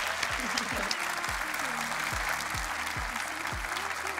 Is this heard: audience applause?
yes